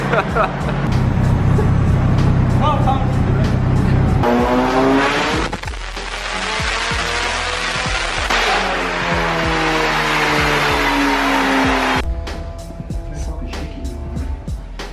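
A 500 bhp Toyota AE86 drift car runs on a dyno with its rear wheels spinning, the loud engine note rising and falling in long sweeps with tyre whine. A brief quieter idle comes near the end, and speech is heard at times.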